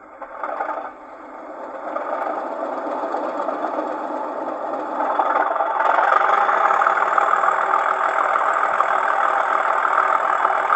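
A Class 37 diesel locomotive DCC sound decoder in a Heljan O gauge model revs up while standing still, a steady droning engine note that rises and grows louder partway through and then holds at the higher pitch, with no voices.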